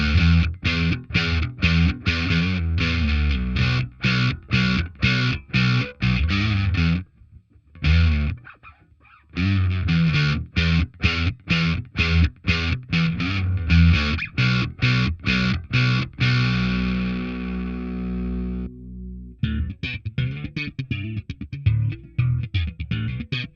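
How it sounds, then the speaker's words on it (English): Bass guitar played through a distortion effect on a Line 6 HX Stomp, loud and continuous with a rhythmic run of sharply separated notes, a couple of brief gaps and a held note near the end. "What does it sound like with the distortion?"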